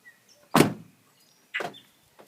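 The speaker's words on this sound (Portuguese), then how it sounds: "Fechar a porta aqui." Two solid thuds of a car door shutting, the first loud and close, the second a little softer about a second later, with quiet in between.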